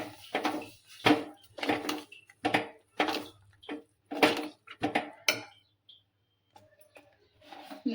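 A spoon stirring sugar into sakkare huggi in a pot makes quick, clattering metallic scrapes and knocks in a steady rhythm, then pauses briefly before a few softer clinks.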